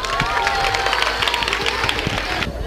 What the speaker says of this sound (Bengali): তোমরা জোরে হাততালি দাও।